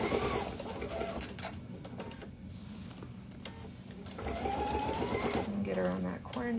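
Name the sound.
sewing machine back-stitching a duffle bag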